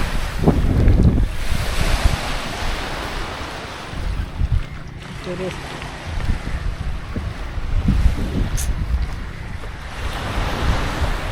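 Sea waves roll and wind blows hard across a fishing harbour, a loud, continuous rush of surf with heavy gusts buffeting the microphone throughout and no voices.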